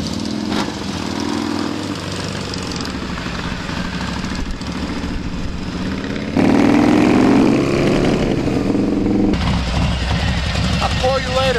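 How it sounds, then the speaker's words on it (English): A loud motorcycle engine, with a slightly slipping clutch, idles and revs close by in a low steady rumble that steps up louder partway through, while people talk over it. "I love the sound of your bike."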